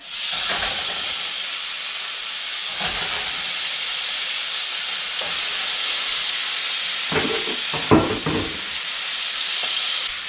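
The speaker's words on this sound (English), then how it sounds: "we're just going to go ahead and drop our venison straight in" Venison sizzles steadily in a hot pan, a loud, even hiss that fills the whole stretch, broken by a few soft clinks and stirring bumps.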